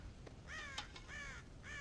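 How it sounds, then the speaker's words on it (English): Crows cawing in Red Dead Redemption, raiding a corn silo; a few harsh, repeated caws in quick succession, fairly close and clear, with no voices. "God damn crows!"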